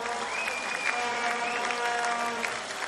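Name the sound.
crowd applauding at canoe sprint world championship finals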